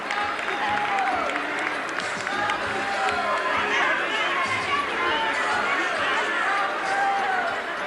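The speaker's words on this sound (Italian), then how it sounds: "Vogliamo con un bel applauso a questi nostri portatori di pace" Applause from a carnival audience inside a tent theatre in Caorle, 1983: dense, steady clapping mixed with crowd chatter, loud and sustained throughout.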